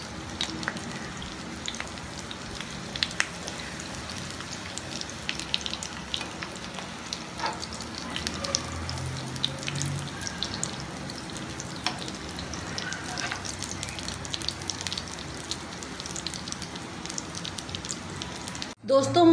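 Cutlets sizzle steadily in hot oil in a pan, golden on one side and being turned with two spoons; a close, even frying hiss runs throughout and ends with a brief clatter.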